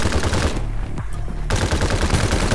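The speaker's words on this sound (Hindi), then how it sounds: "भाई फायर किया लेकिन वो बच गया" Rapid automatic gunfire from the battle-royale video game Farlight 84, loud and dense bursts that pause briefly mid-clip before another sustained volley resumes, with no talk.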